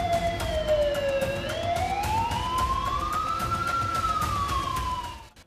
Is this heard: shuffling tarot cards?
no